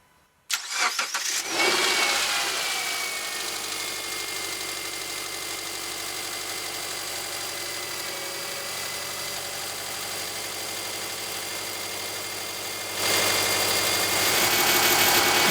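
A car engine cranks, starts and settles into a steady idle, running continuously and close by with no one speaking.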